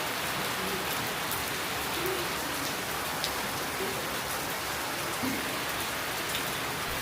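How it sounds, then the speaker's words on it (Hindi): Heavy rain pours steadily outside, a dense, continuous hiss of drops pattering on surfaces that stays even and loud throughout, with no voices over it. "इतनी हैवी रेनफॉल हो रही है बाहर, और मुझे बारिश की जो आवाज़ है ना, पानी की जो पटारा वाली आवाज़ है, बहुत पसंद है"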